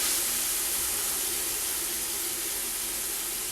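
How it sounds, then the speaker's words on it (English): Yogurt-marinated chicken sizzles loudly in a hot pan, a steady, close hiss that fills the whole stretch with no speech over it. "We get a lovely sizzle."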